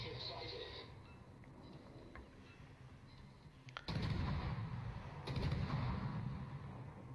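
Destroyer guns fire in the naval battle game World of Warships, two loud booming salvos breaking over a low ambient rumble, with a voice talking faintly underneath.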